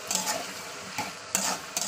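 Potatoes with spices are stirred in a pan: a few scraping spoon strokes, about four distinct scrapes, over a soft background sizzle, with no voices.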